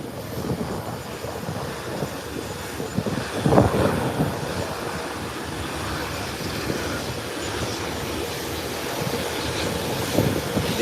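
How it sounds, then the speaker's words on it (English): A Beechcraft 1900 turboprop touches down at Howard Hamilton International Airport, a low, gusty rumble with a brief louder burst at touchdown, followed by steady wind-buffeted engine noise and no talk. "That's a Beechcraft 1900. Just touched down."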